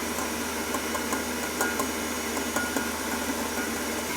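Kitchen stand mixer running at full speed whisking egg whites with sugar for a pistachio soufflé, a steady whirring drone with faint periodic ticks of the whisk, continuous and close.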